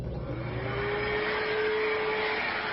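A vacuum cleaner runs steadily with a constant whining drone and a low, even hum, with no voices, in a dusty indoor setting.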